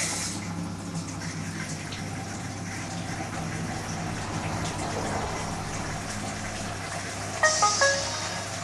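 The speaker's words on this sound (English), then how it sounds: "The mix is now pumping into the memory bucket from the main reservoir and dissipating through the plant buckets" Hydroponic nutrient mix pump pushing solution from a main reservoir into a bucket that feeds plant buckets, a steady, even whoosh and hum of flowing liquid, close and continuous, with a brief brighter clatter near the end.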